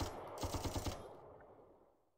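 Infantry fire on a small tank in the strategy video game Panzer Corps, a short, quiet rattle of machine-gun shots in a quick rhythmic burst that fades into a lingering tail.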